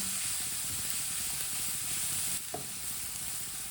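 Vegetables for Chinese kebabs cooking in a hot pan, a steady close hiss and sizzle with soft scraping as a spoon stirs them, plus a brief clink near the end.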